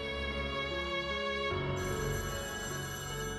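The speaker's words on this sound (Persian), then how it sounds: "اواخر بهار یه روز تلفن مدرسه زنگ خورد." A school telephone rings with a steady electronic ringtone, a dense tonal pattern that stays loud and continuous throughout, heard alone with music-like layers behind it.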